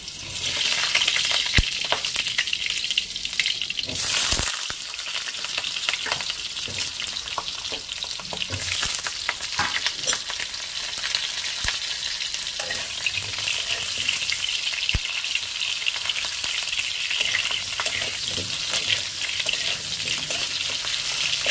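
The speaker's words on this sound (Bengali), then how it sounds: "তো এবার আলুটা ভাজতে দিয়ে দেবো।" Potatoes frying in oil in a pan, a continuous loud sizzle with occasional clinks and stirring scrapes, heard close up without any talk.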